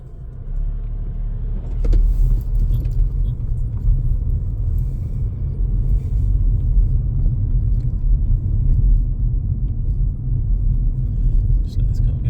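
A car passes on a countryside bypass road at night, a broad, steady rumble of engine and tyres that swells and holds, heard from inside another vehicle.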